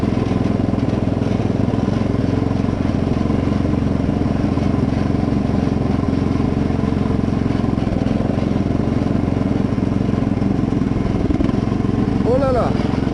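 A riding lawn mower's engine roars loudly and continuously at full throttle, a steady close mechanical drone with some wind buffeting and no clear change in pitch.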